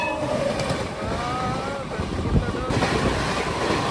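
A train passes close by on the adjacent track while a stopped train waits at Chintakani railway station, giving a steady loud rumble and rattle with wind buffeting that lasts throughout.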